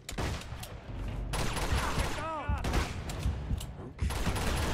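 Gunfire from the video game Uncharted: Among Thieves, sustained bursts of shots at moderate loudness mixed with game effects, with someone talking over parts of it.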